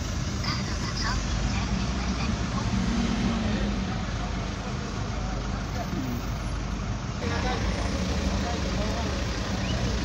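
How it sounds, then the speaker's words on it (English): A Toyota Hiace Quantum engine runs as a steady, moderately loud diesel rumble with a constant low throb. A slight shift partway through leaves the drone continuing unbroken. "And then we start the car."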